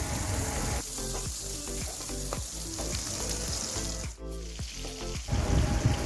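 Pieces of pointed gourd (potol) fry in hot oil in a pan, a steady dense sizzle running throughout with occasional stirring clinks and a brief lull near the end.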